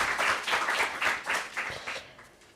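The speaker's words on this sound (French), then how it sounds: "On peut l'applaudir effectivement." An audience at a general assembly on corporate social responsibility for local authorities gives a short round of applause, with rhythmic bursts of clapping that gradually fade out.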